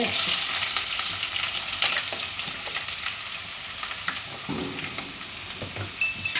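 Chopped onions and green chillies fry in a pan for Andhra-style drumstick pulusu, a steady, close sizzle with occasional stirring scrapes running throughout.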